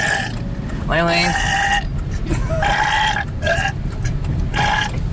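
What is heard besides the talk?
burping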